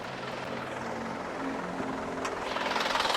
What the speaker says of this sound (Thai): เครื่องยนต์ก็เดินนิ่งเรียบดีนะครับ